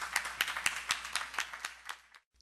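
Audience applause at a poetry gathering, with scattered, fairly sparse hand claps ringing out in an uneven rhythm for about two seconds before stopping abruptly.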